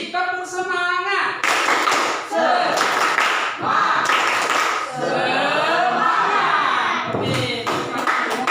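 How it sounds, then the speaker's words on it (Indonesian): A classroom group performs a rhythmic spirit clap (tepuk semangat) in unison, loud bursts of patterned hand claps in sequence, with chanting voices mixed in between the clapping phrases. "Sekali lagi, tepuk semangat."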